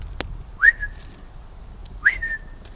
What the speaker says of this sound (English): It whistles at me.